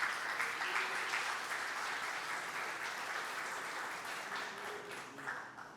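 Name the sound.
congregation applause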